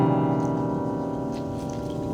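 Dense, clashing piano chords held on a piano's white and black keys, a sustained dissonant cluster ringing steadily at moderate level for about two seconds with no talk.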